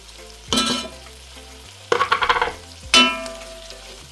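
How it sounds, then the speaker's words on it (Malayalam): Chilli, coriander and turmeric powders sauté in a pan for onion sambar, three distinct bursts of scraping and sizzling as a spoon stirs, close and fairly loud, with quiet pauses between them. "ഇനി ഇതെല്ലാം കൂടി നന്നായിട്ട് വഴറ്റിയെടുക്കാം"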